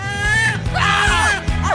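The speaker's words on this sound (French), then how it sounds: "C'est quoi ces cris?" Loud, close, high-pitched screaming with wavering, rising and falling cries, several voices overlapping in quick bursts for nearly two seconds.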